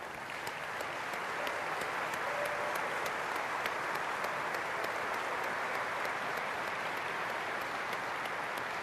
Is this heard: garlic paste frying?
no